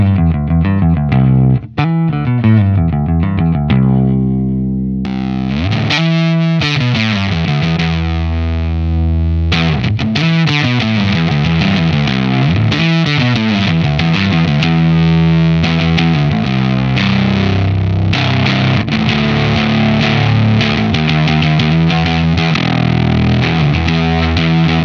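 Heavily distorted Fender Standard Jazz Bass through a Malaise Forever Clubber Lang pedal playing a gritty riff, loud and close, with sustained fuzzy notes and short pauses between phrases.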